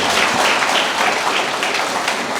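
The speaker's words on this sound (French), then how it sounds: "Encore une fois, je vous demande de les applaudir." Audience applauding graduates at a graduation ceremony: dense, steady applause of many hands filling the whole moment, loud and continuous without a break.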